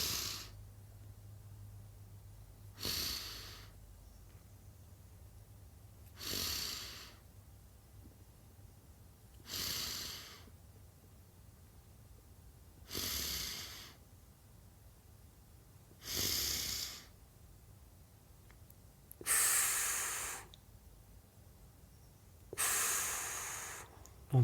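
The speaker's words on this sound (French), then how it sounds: "Dernier, j'inspire." Slow, deep breaths in and out during a guided breathing exercise, eight broad airy breaths spaced roughly three seconds apart, each rising and falling, close to the microphone with no talking in between.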